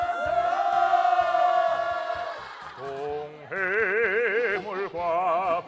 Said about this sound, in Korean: 다 같이 함성으로 부르세요